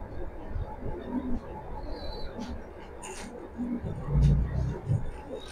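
Racing pigeons cooing softly nearby in low repeated burbles, partly under someone talking.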